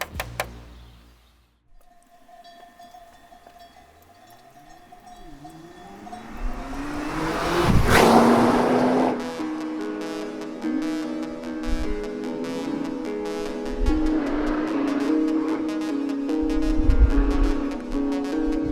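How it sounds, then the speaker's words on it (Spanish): A Nissan GT-R Track Edition with titanium-tipped exhausts revs its engine, rising into a loud surging roar and then settling into a thick, rumbling drone with smaller swells later. "el sonido del motor, aunque se oye gordo y fuerte, con escapes rematados en titanio"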